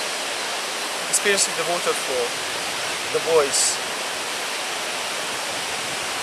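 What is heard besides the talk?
waterfall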